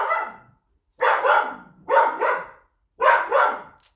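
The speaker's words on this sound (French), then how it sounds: "C'est mon chien." A pet dog barks in short pairs of loud, close yaps, four bursts spaced about a second apart with brief silences between, no other sounds.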